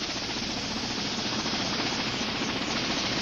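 Steady, loud helicopter roar fills the whole stretch, a dense rotor-and-engine drone with no pauses and no voices.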